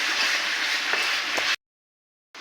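Shredded cabbage frying and being stirred in a pan for cabbage bhorta, a steady close sizzling hiss that stops abruptly, then returns faintly after a silent gap.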